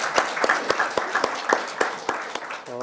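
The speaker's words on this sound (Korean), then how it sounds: "우리 감사의 박수 한번 드리도록 하겠습니다" An audience at a pastors' seminar closing service gives a round of thanks, scattered individual claps standing out sharply over a softer bed of applause, fairly quiet and uneven, ending with a brief voice.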